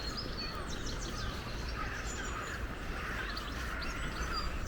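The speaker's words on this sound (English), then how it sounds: "You can hear loads of birds twittering up here." Several birds chirp and twitter in woodland near Wilsbridge Mill, their small scattered calls faint against a steady background hiss, with no voices heard.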